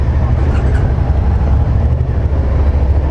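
A 2019 Suzuki SV650X motorcycle rolls out in first gear with a loud, steady low engine drone and wind rush close by, even and continuous throughout.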